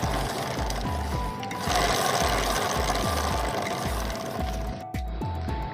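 A bike's rear wheel spinning after a bearing replacement, producing a steady mechanical whir with a regular, rhythmic low pulse from each rotation, fairly loud and close.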